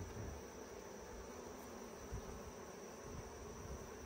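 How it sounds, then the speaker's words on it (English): Calm, docile honeybees hum steadily around a beekeeper's glove at an open hive, a continuous close buzz with no speech. "Pretty nice, chill little docile bees"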